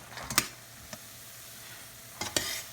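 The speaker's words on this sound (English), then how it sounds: "I'm gonna mix it until the sugar melts." A spoon stirs lotus seeds through melting sugar syrup in a few brief, soft scraping strokes, with a faint, steady background between them and no voices.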